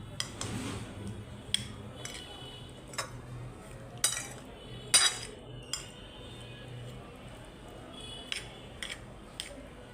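A spoon clinks and scrapes against a bowl while spiced food is mixed by hand with chaat masala. The sharp metallic taps recur irregularly over a steady soft rustle, close and fairly quiet, with no talking.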